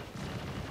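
Gunfire from a space station in the Star Citizen video game, a brief dense burst of rapid shots with a heavy low rumble, loud and close, with no voices over it.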